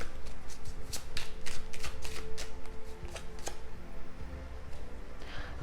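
Tarot cards being shuffled by hand, a run of crisp riffling and slapping bursts close up, steady through the first seconds then softer, with no talking.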